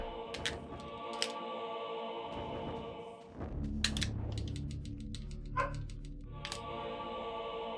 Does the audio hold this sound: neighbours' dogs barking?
yes